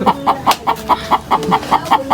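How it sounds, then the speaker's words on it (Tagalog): A chicken clucks noisily and insistently at close range, about a dozen evenly spaced loud clucks in quick steady rhythm, with no talking over it. "Kanina pa yung manok na yan."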